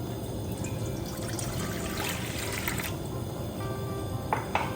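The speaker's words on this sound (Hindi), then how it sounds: "सबसे पहले हम डालेंगे 1 कप पानी" One cup of water poured into a pan for making churros, a steady trickling pour that runs for several seconds and ends with a few splashy drips.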